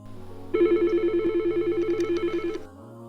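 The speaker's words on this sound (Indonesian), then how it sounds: "Telepon masuk kita angkat terlebih dahulu dengan cara angkat gagang." Office desk telephone ringing with an incoming call, a single electronic warbling ring burst lasting about two seconds, close and clear against a quiet background.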